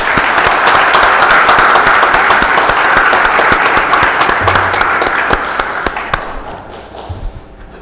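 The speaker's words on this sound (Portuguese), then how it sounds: "solicito a todos que saudemos o pavilhão nacional com uma salva de palmas" Sustained round of hand clapping from a group at a municipal council meeting, saluting the national flag, dense and steady before thinning into scattered claps and fading near the end.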